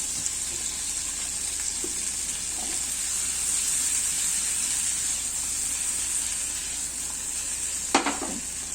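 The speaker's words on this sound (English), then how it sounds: "It has to cook really well, so I'm just adding some olive oil to it." Food frying in a generous amount of olive oil and butter in a pan, giving a steady close sizzle and hiss throughout, with a brief louder crackle near the end.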